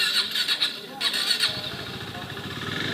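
A motorcycle loaded with luggage and a new seat cover starts up: a high whine and clatter, then the engine catches into a steady, close, rumbling idle, with a voice speaking over it.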